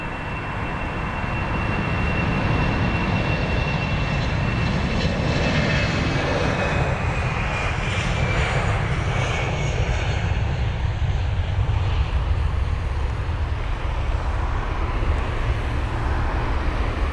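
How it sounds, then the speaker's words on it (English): A Eurowings Airbus A319 jet taking off at London Heathrow, a loud, sustained broadband engine roar with a faint whine, steady throughout, heard at a distance with no talk. "And that's a 319 for you, rotating very, very early. Not needing much of the runway at all."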